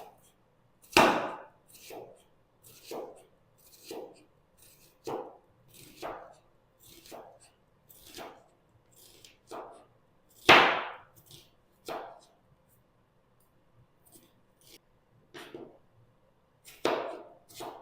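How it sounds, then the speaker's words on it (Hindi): A knife chops through onions for a restaurant-style onion salad, about fifteen sharp, separate cuts against a board at an uneven pace with silent gaps between them, close and clear, with no talking. "अब हम इसकी कटिंग करते हैं। तो इस तरीके से हम इसकी कटिंग करेंगे।"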